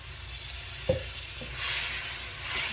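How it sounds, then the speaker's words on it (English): Water splashed into sizzling fish curry paste in a hot pan, giving a brief spatter followed by a steady hiss and the soft scrape of stirring. "Little splash of water now"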